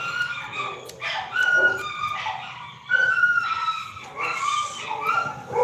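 Dog barking and yipping at close range, with short repeated barks and whimpers that sometimes overlap, fairly loud and continuous over a few seconds.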